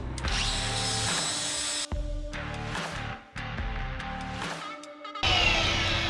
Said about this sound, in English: Mark this and grind it a little.